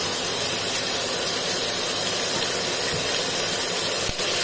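Duck breast (magret de canard) sizzles in a very hot pan, giving a steady, dense hiss and crackle that holds without a break, close up and fairly loud.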